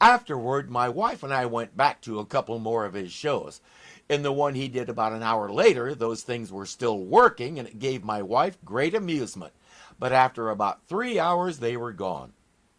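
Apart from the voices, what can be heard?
No everyday noise stands out behind the speech.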